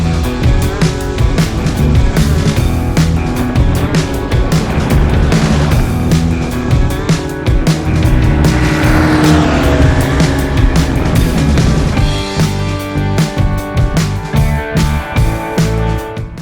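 A BMW R1150R motorcycle rides a highway through the Burnt River Valley, its engine droning loudly and continuously with wind rush and slight pitch changes through curves, heard close from the rider's position.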